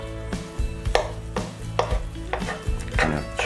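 A utensil chops through shepherd's pie in a skillet, knocking out irregular close thuds and scrapes against the pan several times, with no talking.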